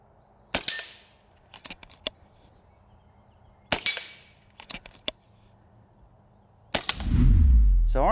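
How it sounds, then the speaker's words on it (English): FX DRS Classic air rifle firing JSB 18 grain pellets outdoors, several sharp cracks spaced seconds apart, each trailed by small clicks of the action, with a closer rumbling handling noise at the end. "Again, these were the first shots out of this rifle."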